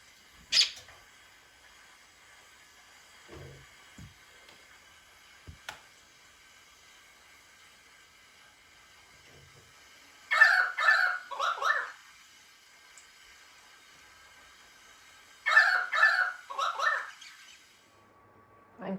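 A wild bird visiting a garden seed feeder gives two short bursts of harsh, chattering calls a few seconds apart, fairly close and alone against a quiet background with a few faint knocks earlier.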